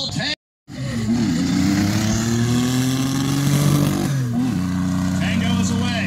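Race car launching up the Mt. Washington hill climb, its engine revving and climbing in pitch over several seconds, then dropping and steadying after a gear change, loud and close, with a commentator talking over it.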